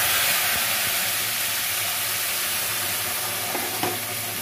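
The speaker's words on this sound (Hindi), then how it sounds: "तेल हमारा गरम हो गया है, इसमें थोड़ा सा गरम मसाला डालेंगे और ये पीसी हुई हम ग्रेवी डालेंगे।" Steady hissing sizzle of ground tomato gravy with garam masala frying in hot oil, close and continuous, with a few faint stirring knocks near the end.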